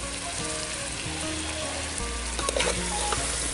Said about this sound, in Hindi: सभी को मिक्स करते हुए अच्छे से भूनेंगे।